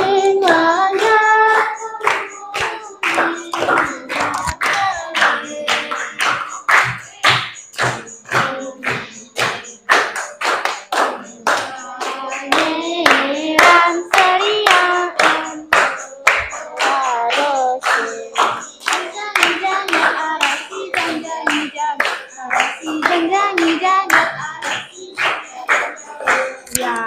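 Hand clapping during a classroom music lesson on a song from Bali: steady, rhythmic claps continue throughout, with voices singing or talking underneath.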